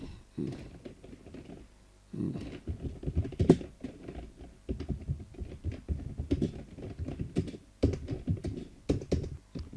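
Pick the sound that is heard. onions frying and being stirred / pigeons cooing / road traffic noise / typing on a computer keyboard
typing on a computer keyboard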